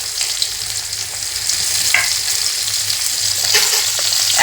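Bay leaf, whole cumin and chopped onion crackle in oil left over from frying rohu fish, a loud, close, continuous sizzle that swells slightly midway, with a couple of brief metallic scrapes.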